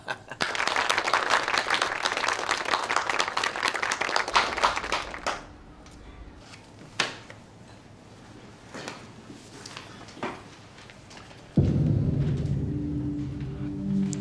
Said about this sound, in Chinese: 我们一起鼓掌